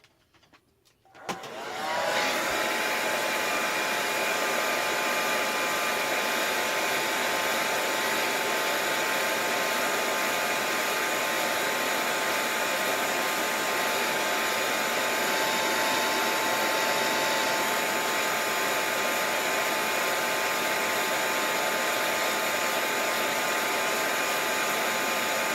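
A heat tool or hair dryer blows steadily over wet paint on a mixed-media art journal page, switching on after a brief pause and then holding a loud, constant whoosh.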